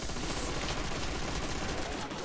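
An MG42 machine gun in a zombie video game fires a dense, continuous burst at close range, loud and unbroken for the whole stretch with no pause between rounds.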